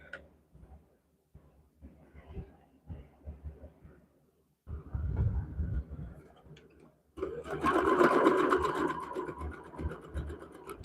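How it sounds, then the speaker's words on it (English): Sewing machine stitching an extra seam line on a quilt block: bursts of mechanical whirring and rattling, quiet at first, then growing louder and denser near the end, with no talk. "Now I'll just flip it around and sew that extra line."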